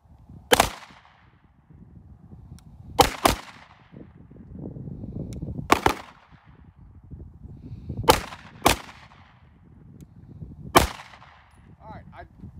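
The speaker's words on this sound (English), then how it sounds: "He'll shoot the Beretta." Beretta M9 pistol fired at a shooting range: seven sharp, loud shots spaced irregularly, some in quick pairs, with quiet gaps and low background noise between them.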